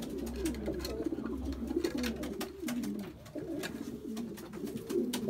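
Pigeons in a breeding loft coo softly in low, repeated rolling calls, fairly close and continuous, with faint rustling around them.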